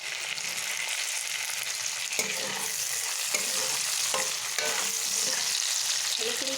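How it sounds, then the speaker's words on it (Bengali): Onions and chopped tomatoes sizzle steadily in a hot pan, with the soft scrape of repeated stirring breaking through the continuous frying hiss. "ভালো করে পেঁয়াজটাকে বাদামি কালার করে ভেজে নেব, হালকা বাদামি কালার হবে।"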